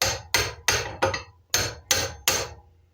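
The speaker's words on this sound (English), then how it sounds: "I'm going to use that to hammer the handle out" Seven sharp metal strikes ring out as round stock is hammered against the handle of a Garland No. 3 split face hammer, evenly spaced blows, close and alone, the last decaying slowly.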